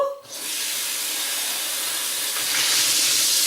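Hot tap water runs steadily for washing dishes, a close, even rushing hiss that starts after a brief pause and grows slightly stronger toward the end.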